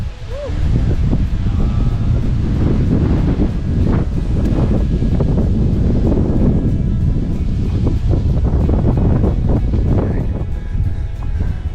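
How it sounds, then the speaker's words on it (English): Strong wind at Tinker Cliffs on the Appalachian Trail in Virginia buffets the microphone with loud, continuous gusty rumbling and rustling, nearly constant throughout. "Very windy."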